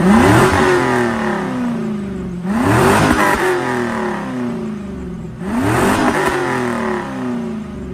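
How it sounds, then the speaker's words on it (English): A Chevrolet Camaro police car's LS1 V8 engine revs hard three times, each rev rising to a loud roar through the exhaust and then dropping back to idle. "Let's let you guys hear this exhaust now."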